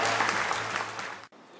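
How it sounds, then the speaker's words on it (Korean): An audience applauds at a peace prize award ceremony, a burst of dense clapping from a large hall that fades and cuts off abruptly near the end. "다시 한번 축하의 박수를 부탁드리겠습니다."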